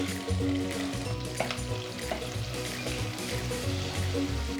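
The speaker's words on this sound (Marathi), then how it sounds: "तेल तापलं आहे छानपैकी आता आपण लसूण टाकूया आलं टाकू मिरची पण टाकू आणि सोबतच कांदा पण टाकूया" Garlic, ginger, green chili and onion sizzle in well-heated oil, a dense and fairly loud frying hiss with stirring movement throughout and no talking.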